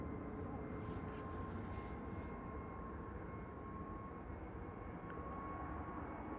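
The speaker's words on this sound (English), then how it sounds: "This is an A321neo." An Airbus A321neo airliner departing Amsterdam Schiphol, heard as a steady, unbroken broadband engine roar that holds at a fairly low, distant level throughout.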